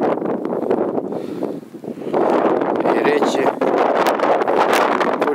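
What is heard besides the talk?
strong wind blowing by beehives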